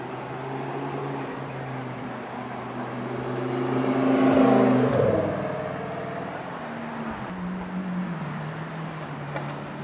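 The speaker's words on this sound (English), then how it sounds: "Black Aventador, white 488. Just cruising down South Beach." A black Lamborghini Aventador and a white Ferrari 488 cruise past on a South Beach street in Miami, their engine hum swelling to a peak midway and then fading as they pass, heard from the roadside with no talk.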